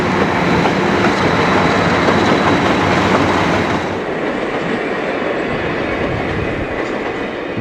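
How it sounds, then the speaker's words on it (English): Two Grand Trunk Western Jeep diesel locomotives, numbers 4911 and 4913, lead an eastbound train at 95th Street in Evergreen Park in 1960, a loud close rumble with rolling wheel noise that eases slightly partway through. "two Grand Trunk Western Jeeps, numbers 4911 and 4913, head up an eastbound train"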